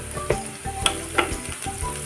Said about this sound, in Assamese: পিঁয়াজখিনি 1 মিনিটমান সময় ভাজি লোৱাৰ পাছত মই ইয়াতে হালধি দি দিম